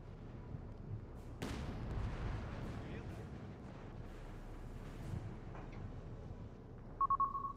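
Mortar fire in the WWII strategy video game Company of Heroes 3, a sharp distant boom followed by rumbling impacts and low battlefield noise, faint overall, with a short electronic beep near the end.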